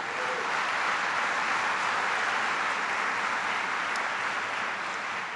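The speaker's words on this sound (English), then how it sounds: "give Mike Doyle a big round of applause, please" A conference audience in Pittsburgh applauds a speech with steady, dense clapping that fills a large hall and holds at an even level throughout, with no voices above it.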